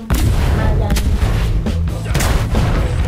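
Cannon blasts in an online battle game, several loud booming shots with sharp onsets at irregular intervals, over continuous low rumbling and background noise, with faint voices in the mix.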